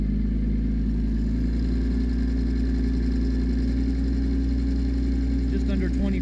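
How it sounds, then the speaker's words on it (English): Tractor engine driving a sickle mower for ditch cleaning, running steady at moderate revs: a loud, continuous low mechanical drone that holds even throughout, with some faint rattling above it. "Then pick up the RPM."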